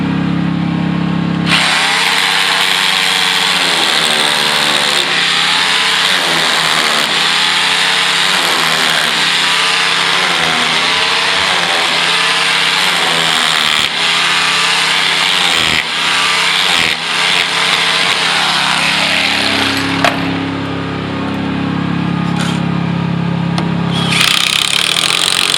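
A power driver sinks large Tapcon screws through a wall into concrete, a loud sustained whine with pulsing impacts under load for most of its length, ending with a release.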